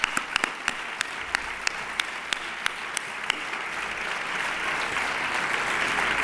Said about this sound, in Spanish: un fuerte aplauso, por favor, para Miguel Ángel Martín Perdiguero